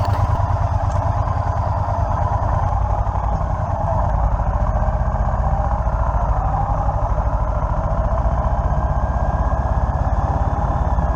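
Triumph T120 motorcycle engine, 2019 model, running steadily after being started in the dark, a loud close continuous throb with dense clattering pulses and no talk.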